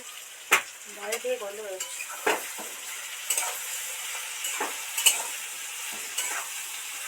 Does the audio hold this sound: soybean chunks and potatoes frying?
yes